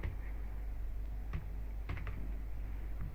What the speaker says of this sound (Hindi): यहाँ पर लिखते हैं कोर्स